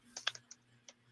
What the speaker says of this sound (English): Typing on a pillow right now.